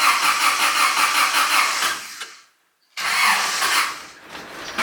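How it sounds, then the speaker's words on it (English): A 1986 Toyota pickup's engine is started by push button, running with a steady mechanical drone that cuts out briefly and then restarts, close and fairly loud. "Push button start."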